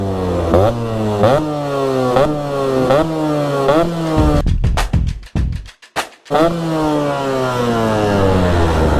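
A Yamaha RXZ motorcycle fitted with an expansion chamber exhaust revs hard and loud, close by. The engine climbs in pitch again and again in quick rising sweeps, then cuts back briefly with sputtering pops before revving up once more.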